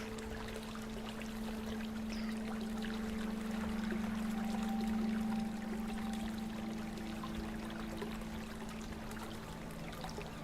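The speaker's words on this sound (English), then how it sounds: "this water sound is making me have to pee" Steady flowing or trickling water runs continuously and fairly close, with a constant low hum beneath it, heard on its own with no voices.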